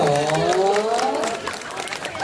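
Dense clapping from a crowd, steady and fairly loud, with a voice or cheer ringing over the start.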